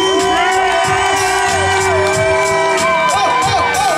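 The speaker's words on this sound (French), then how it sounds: "Akour, pour le Clan, du bruit." A loud concert crowd cheers and shouts continuously, with whoops and yelling voices over a dense, steady roar of noise.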